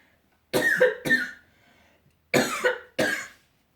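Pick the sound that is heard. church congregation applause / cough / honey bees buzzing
cough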